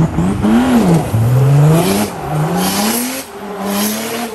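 Nissan GU Patrol with a 500 bhp OM606 diesel engine revving hard, loud and close, its pitch rising and falling through several surges as it accelerates.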